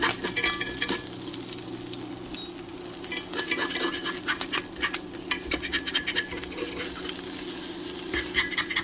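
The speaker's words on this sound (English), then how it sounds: "we're going to scrape off all this gunk" A utensil scrapes cooked gunk off a hot pan in repeated rasping strokes that quicken into a steady scratching rhythm, close and clear over a faint low sizzle.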